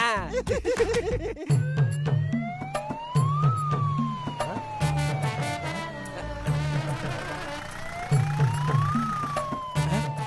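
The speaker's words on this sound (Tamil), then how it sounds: "ஆம்புலன்ஸ் முன்கூட்டியே வர வச்சிட்டீங்களா?" An ambulance siren wails with a rising and falling tone, loud and close, over a steady low hum throughout.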